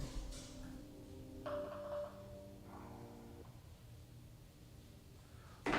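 A phone rings with unwanted spam calls: a few short electronic tones ring out close by over a quiet room, with no talking.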